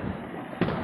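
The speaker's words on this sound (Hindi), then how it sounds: "दो बिल्डिंग के बीच में ऊपर से पटाखा फोड़ रहा है" During Diwali celebrations in Ranchi, a firecracker bursts overhead between two buildings, heard as a single sharp crack late in a short stretch of steady background noise.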